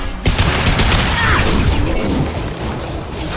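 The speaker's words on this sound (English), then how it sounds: "Firing!" Dense burst of gunfire in the video game Mass Effect 2, loud rapid cracks and thumps running continuously for a few seconds amid mechanical combat noise.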